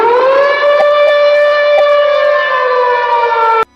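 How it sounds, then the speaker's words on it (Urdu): An air raid siren holds one loud, steady, close wail for several seconds before cutting off abruptly, with nothing else audible. "صبح کے ٹھیک 7:57 AM پہ ڈورس کو ایک سائرن سنائی دیتا ہے۔"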